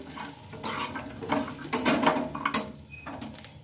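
Small cut pieces of bread frying lightly in white oil in a pan, with a soft sizzle under scattered scraping and stirring clatter of a utensil against the pan.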